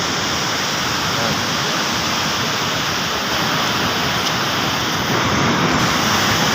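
Gullfoss waterfall in Iceland roars as a dense, loud, continuous rush of falling water. The broad wash holds steady throughout with no pauses.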